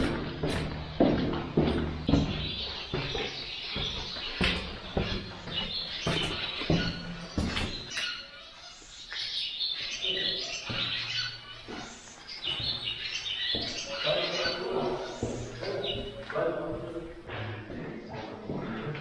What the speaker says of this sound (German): Alter, habt ihr die Vögel gehört hier?